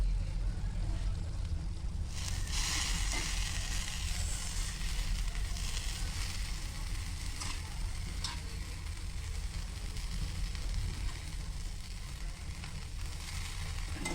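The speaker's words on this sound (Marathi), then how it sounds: "परतवते आता ते. आणि तेच पाव पण परतवून घ्यायचे." Pav bread is sautéed in butter with masala in a hot pan, and a steady, broad frying sizzle carries on throughout with faint scraping touches.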